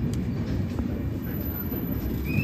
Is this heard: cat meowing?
no